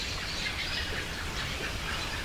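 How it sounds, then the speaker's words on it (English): Robins chatter up in the trees at a campsite in French Creek State Park, faint high chirps scattered through a steady, hissing outdoor background at dusk. "I think there's a robins all chattering up in the trees there."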